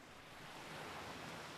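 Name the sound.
wind and ocean surf on a dune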